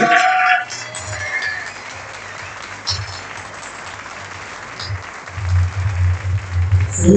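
Applause from the crowd at the closing award ceremony of the Kayak Surf Worlds in Argentina, a moderate wash of clapping that follows an announcer's voice, then swells louder near the end.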